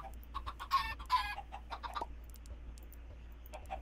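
Chickens clucking in the Minecraft video game, a series of short repeated squawky clucks in quick bursts, fairly faint over a low steady background hum, with no talk.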